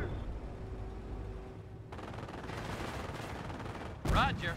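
Bursts of small-arms and machine-gun fire rattle through a Company of Heroes harbour battle, a dense crackling volley that builds midway and ends in a sharper, louder burst, with no voices over it.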